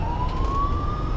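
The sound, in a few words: highway patrol car siren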